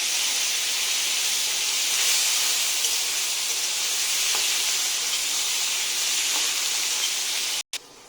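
A loud, steady sizzle and steamy hiss rises from a pan of hot panch phoron as tomato and chopped chilli go in for shahi paneer, continuous and close until a sudden cut near the end.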